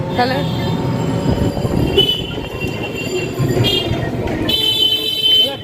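A train pulls into a station, loud and close: a continuous rumble of wheels and carriages with high metallic wheel squeals rising toward the end, while people talk nearby.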